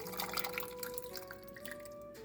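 Gravy pouring into a gravy bowl in a home kitchen, a steady close liquid trickle and dribble running for a couple of seconds without any talk.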